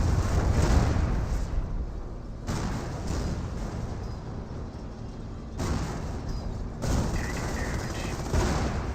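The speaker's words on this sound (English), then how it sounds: "Here comes the Calliope rocket barrage, softening up everything." A Calliope rocket barrage in Company of Heroes unleashes a loud, dense rumble of launches and explosions, continuous blasts surging in waves over several seconds, close and heavy with no talking.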